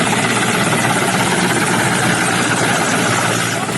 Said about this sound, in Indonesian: Penggunaan helikopter diharapkan bisa membantu menjangkau lokasi kebakaran yang sulit diakses oleh jalur darat